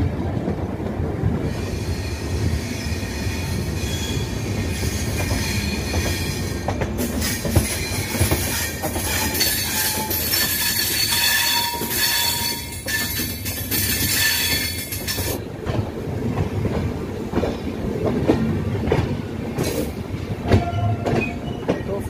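Howrah–Malda Intercity Express (13011) rolling into Malda Town station: steady loud rail rumble with wheel clatter and bursts of high squealing from the wheels as the train slows, continuous throughout with no talk.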